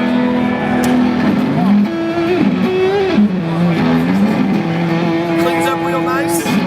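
Electric guitar with a Dunlop Eric Johnson Fuzz Face pedal bypassed, giving a clean tone as a sliding, bending melodic line of sustained notes, loud and close throughout.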